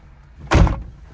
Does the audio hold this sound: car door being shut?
yes